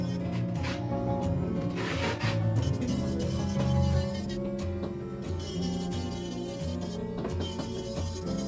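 A 240-grit nail file is rubbed back and forth over a long sculpted stiletto gel nail, giving close, steady rasping strokes over a constant background hum.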